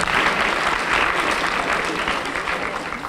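An indoor audience at a Women's History Month celebration breaks into sustained, loud applause, dense clapping that fades slightly toward the end.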